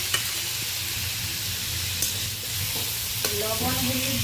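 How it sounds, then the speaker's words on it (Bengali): Eggplant and potato stirred and fried in a pan, with a steady close sizzle and scraping spatula strokes throughout. "বেগুন আলুটা ভালো করে একটু নেড়ে নিচ্ছি।"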